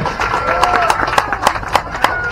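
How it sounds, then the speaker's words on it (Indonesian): A crowd in Padang claps for ICCN, sharp scattered hand claps popping over a busy murmur of voices, with a person talking through the applause. "Tepuk tangan untuk ICCN"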